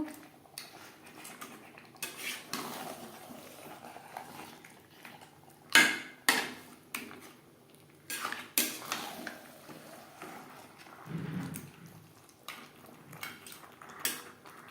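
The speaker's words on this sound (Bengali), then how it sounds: "মাছের মাথা মশলার সাথে বেশ ভালো করে মিক্স করে দেব" Fish head stirred with spices and potato in a metal pot for a Bengali muri ghonto, giving scattered scraping clinks and knocks of a utensil against the pot, with several sharper loud hits and quieter gaps between them.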